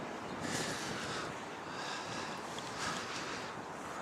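Steady gusting wind roars across the microphone at a seaside graveyard in Seaham, a broad continuous rush with slight swells and no voices.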